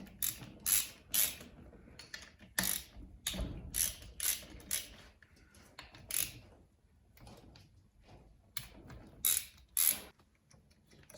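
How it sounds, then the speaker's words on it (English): A ratchet loosens the 8mm engine case bolts on a 1998 Suzuki RM 250 with a split crankcase. Bursts of clicking and creaking come in irregular clusters, with quieter mechanical handling between them. Close up, with no speech. "Get one of the last bolts loosened up here, guys."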